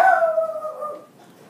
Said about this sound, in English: Sorry about the puppy dog barking.